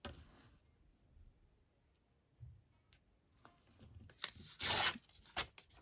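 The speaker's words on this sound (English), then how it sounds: "I don't think I want that hole, so let me just tear that off" Paper torn from a handmade journal trifold: after a quiet stretch, a few sharp ripping bursts come close together near the end, close and fairly loud, with no talking.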